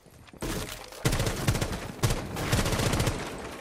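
Rapid bursts of gunfire in the tactical shooter game Rainbow Six Siege, loud and close, with several sharp volleys crowding the clip and no talk over them.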